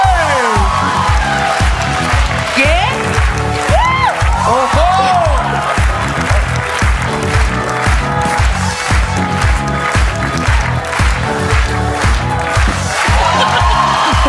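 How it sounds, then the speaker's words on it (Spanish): Live comedy podcast audience cheering, whooping and clapping loudly in a rhythmic beat, close and continuous throughout, with voices shouting over it. "Un aplauso enorme para Farrell"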